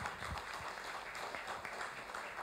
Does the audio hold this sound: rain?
no